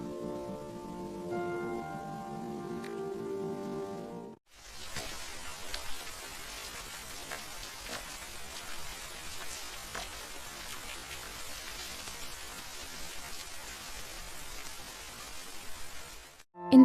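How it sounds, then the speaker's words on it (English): Soft, steady rain patters against a window on a quiet night in a small town, a continuous gentle hiss that follows a short stretch of tonal music and carries on alone without any voices. "Tonight, the rain is falling softly."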